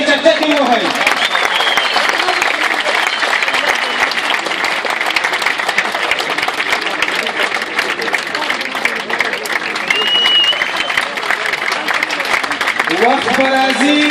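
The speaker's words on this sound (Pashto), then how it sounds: "په ویاړ یې چکچکې ووهئ" An audience at an Afghan dress show breaks into sustained applause that fills the room, with dense, even clapping throughout. A voice speaks briefly at the start and again near the end.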